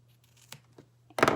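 Scissors trim fabric for a face mask with a few faint snips, then one brief, louder cut at the end, close by in a quiet room with a low hum.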